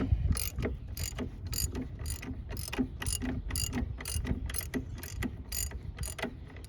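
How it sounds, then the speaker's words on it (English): A ratchet wrench loosens bolts on a 2.4 Ecotec engine during a timing chain job, giving a quick run of about a dozen crisp, evenly spaced clicks, close and clear, with no talking. "put your jack under the oil pan, and then you can go ahead and safely remove these bolts."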